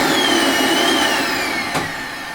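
Motor of a Nilfisk Extreme vacuum cleaner whining loud and steady with its inlet covered, a strained high-pitched drone that sags slightly in pitch as pressure builds.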